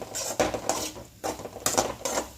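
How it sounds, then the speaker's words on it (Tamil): A spoon scrapes and clanks against a pot while stirring horse gram (kollu) lentil curry, in about half a dozen close, rhythmic metallic strokes with short pauses between them. "லைட்டாக ஒரு கிண்டு கிண்டு பெரட்டி விட்ட உடனே"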